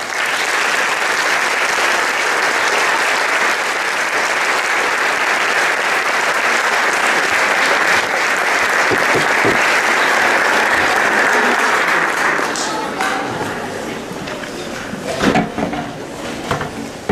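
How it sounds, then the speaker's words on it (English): An audience at a junior high honor choir festival claps loudly and steadily for about twelve seconds, then the applause thins to scattered claps and small knocks as the crowd settles. "So let's give them a round of applause."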